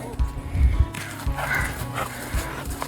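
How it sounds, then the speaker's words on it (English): A dog barks and yips a few times on a cloudy volcano trail during a hike, close by, over steady wind and background noise. "Dog's going too."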